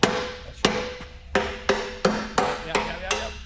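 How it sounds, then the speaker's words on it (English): Repeated metal-on-metal hammer strikes drive a pin on a Bobcat E45 mini excavator, about eight sharp ringing blows in an uneven rhythm, loud and close with brief decays between hits. "Just hit the pin towards me"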